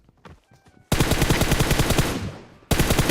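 Rapid automatic gunfire from a player's weapon in a PC video game, loud and close, bursting in a long sustained stream that trails off before a second burst starts, after a few quieter clicks and thuds.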